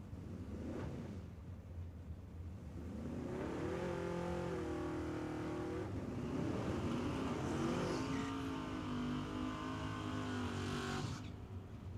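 A Chevrolet Camaro and other drag cars launch at Tucson Dragway, building from a rumble into a loud, sustained rising engine roar that climbs in pitch and then fades off.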